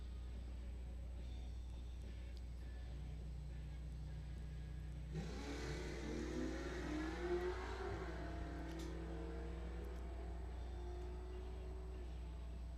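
Index and bracket drag racers launch off the start line at Coles County Dragway, a sudden surge of engine roar and rising revs swelling midway and carrying on loudly over steady background rumble.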